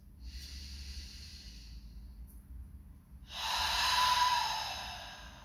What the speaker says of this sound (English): So I'll start with a few nice deep breaths.